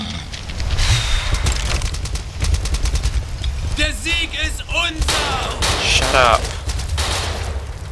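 Bursts of gunfire in the World War II dinosaur shooter Dino D-Day, rapid cracks and rattles packed closely together, loud and near, with voices talking in between.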